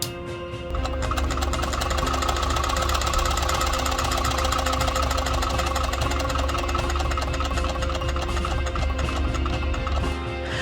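A DX Gotchartornado toy from Kamen Rider Gotchard spins for a long stretch, giving a continuous close mechanical whirring buzz, steady and fairly loud, with no voices.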